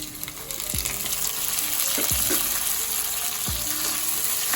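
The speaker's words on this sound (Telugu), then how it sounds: "నెక్స్ట్ వచ్చేసి టమాటా చిన్నగా తరిగేసుకొని ఒక చిన్న టమాటా వేసుకుంటున్నాను" Chopped tomato and a sprig of curry leaves hit hot oil, giving a steady bright sizzle with three soft thuds and stirring scrapes, close and continuous with no talk.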